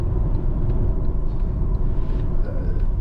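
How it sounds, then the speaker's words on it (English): A Honda Accord 2.4 i-VTEC EX Tourer cruising on the road produces a steady, loud low rumble of engine and tyre noise from inside the cabin, with no break and faint higher sounds above it. "back to driving the car"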